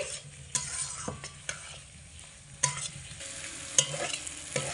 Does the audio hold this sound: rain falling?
no